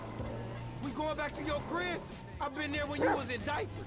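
A dog barks in a video game, with close, repeated yips and bow-wow barks mixed in with ongoing talk.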